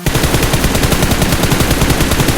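Rapid automatic gunfire in the mobile shooter BGMI, a dense, continuous burst of loud shots firing in quick rhythm for the whole stretch, with no talk.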